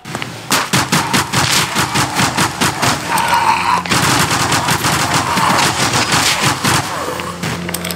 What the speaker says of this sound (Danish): Ja, Sean, kan du tage skud?